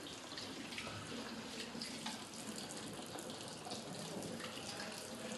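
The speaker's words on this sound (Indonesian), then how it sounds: "Di sini saya akan mencuci tangan dan memastikan untuk airnya nyala." Tap water runs steadily into a sink for hand washing, a continuous, even hiss of flowing water close by with no talk over it.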